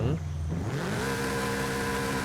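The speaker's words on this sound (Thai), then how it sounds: "จากลักษณะเสียงเครื่องยนต์เนี่ยด้วยความที่ว่าเป็นเครื่องยนต์บ็อกเซอร์เนี่ยเสียงจะค่อนข้างแหลม" A 2013 Toyota 86 boxer engine in Forza Horizon 5 idles then revs up to a higher, fairly sharp steady drone, loud and close, the tone climbing and holding without a break.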